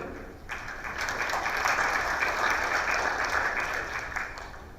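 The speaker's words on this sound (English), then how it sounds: "a round of applause for Mr. Nath" Moderately faint audience applause at a global business summit in Singapore, a broad wash of clapping that swells in after half a second, holds steady, then eases slightly toward the end.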